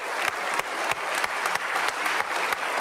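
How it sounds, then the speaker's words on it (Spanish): Applause in the Colombian Congress at the opening of a legislative session, a full chamber clapping with a rhythmic, partly synchronized beat throughout. "no un minuto de silencio por Miguel Uribe Turbay, sino un minuto de aplauso por su recuperación"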